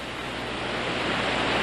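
Bulil waterfall in Jirisan, a steady broadband roar of rushing, falling water, continuous and dense with no breaks, heard alone without voices.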